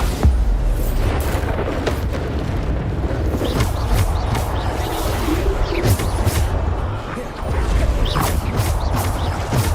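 Bombarda spell explosions in Hogwarts Legacy combat: a loud, dense wash of booms, crashes and impacts, one on top of another, with no break in the din.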